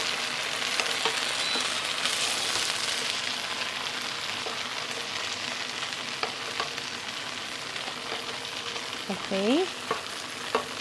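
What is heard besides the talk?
kofta meatballs frying in a pan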